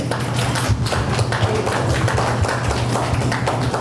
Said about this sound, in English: let's give Miss Nikki and RJ's a round of applause for hosting us today